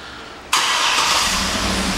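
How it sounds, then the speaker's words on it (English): A 2012 Cadillac Escalade's engine cranks and catches with an abrupt remote start, then settles into a steady, close idle rumble with a bright hiss. "It also has remote start. Let me show you how that works."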